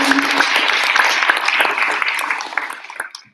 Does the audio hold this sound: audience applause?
yes